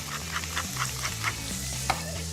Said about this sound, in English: Now, start frying off that pancetta.